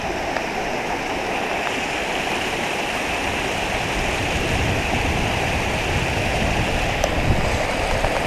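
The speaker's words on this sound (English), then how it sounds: "Creek back behind us." A creek flows beneath a footbridge on the Smokemont Loop Trail in the Great Smoky Mountains, its steady broadband rush close and continuous throughout, with no voices.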